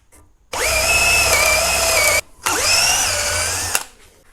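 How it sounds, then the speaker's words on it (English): A power drill bores anchor holes for rebar into a wooden base: two loud, sustained whirring bursts of about two and one seconds, separated by a short pause, with a faint click at the end. "Now I'm gonna drill my holes for my rebarb."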